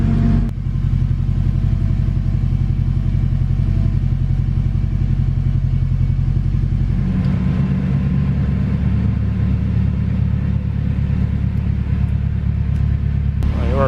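A turbocharged car engine idles while warming up, with a steady, loud, deep rumble held close throughout and a slight shift in tone about halfway through.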